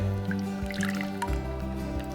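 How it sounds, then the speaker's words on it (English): Melted butter poured from one container into a new bowl, a soft liquid dribble and drip lasting a couple of seconds, close and fairly quiet, with no talking. "We're gonna pour our melted butter in a new bowl"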